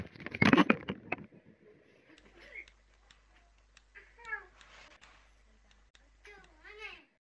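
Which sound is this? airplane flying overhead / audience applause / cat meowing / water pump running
cat meowing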